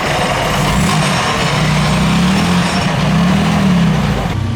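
Supercharged vintage Alfa Romeo race car at the Concorso Villa d'Este, its engine running with a loud, steady low rumble that wavers slightly in pitch over several seconds, nearby.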